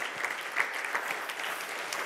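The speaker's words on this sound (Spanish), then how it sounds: "tú tienes que darle un fuerte aplauso al Señor." A church congregation clapping, steady and sustained applause with sharp individual claps standing out, no voices.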